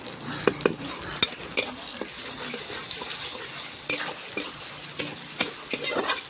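Ginger, garlic and cumin paste fries in oil in a pot for goat leg curry, with crackling sizzle broken by sharp stirring and scraping clatters, close up.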